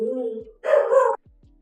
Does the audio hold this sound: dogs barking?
yes